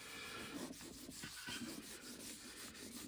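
Finish is rubbed by hand into a wooden chopping board, producing a continuous close, soft rubbing and scrubbing that rises and falls in rhythmic strokes, with no talking.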